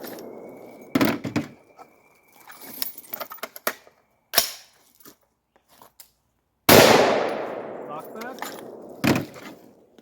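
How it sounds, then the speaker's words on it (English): An AR-15 bolt locking back on an empty magazine gives sharp metallic clacks and thunks, loud and close, spaced irregularly between quieter handling noises. "this is a gun that would never lock back with Tula, and now it's locking back every single time"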